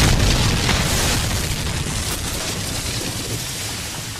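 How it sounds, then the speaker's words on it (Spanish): A dynamite blast rolls out as a broad, rumbling roar that slowly fades, dense and sustained with no distinct onset, loud and enveloping. "sus compañeros de trabajo estaban por hacer explotar dinamita"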